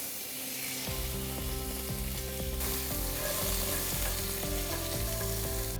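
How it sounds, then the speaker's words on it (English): Four big white onions, sliced, sautéing in butter in a pan for French onion soup, a dense steady sizzle that swells louder midway, with faint clinks and stirs underneath and no voices. "4 big white onions I've sliced into wings, and we're gonna saute those."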